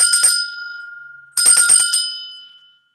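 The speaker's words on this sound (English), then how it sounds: "So let's ring the bell." A small bell is struck twice to close a tarot reading, each strike a bright metallic ring with a quick rattling onset that decays slowly into silence, loud and close with no talking.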